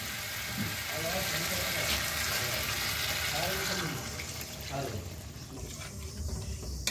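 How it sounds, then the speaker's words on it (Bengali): Water pours from a pot or jug into a pan of cooking lentil curry with potatoes, a steady splashing pour that fades partway through, with a voice speaking faintly nearby. "এবার জল দেব"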